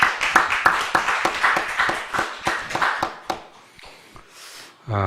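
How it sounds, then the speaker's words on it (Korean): A church congregation at a Sunday afternoon worship service claps together. The separate, sharp claps start fairly close and loud, thin out and fade over a few seconds, and a short tonal sound comes at the very end. "하나님께 영광의 박수 올려드립니다"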